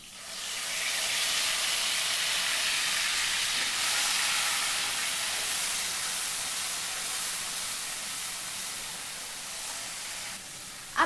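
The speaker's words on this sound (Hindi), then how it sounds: "अब जो ग्रेवी हमने बनाई थी वो हम इसमें डाल देते हैं।" Gravy hits a hot pan of whole spices for shahi paneer, setting off a loud, sustained sizzling hiss that holds steady for several seconds and then cuts off with a brief clatter.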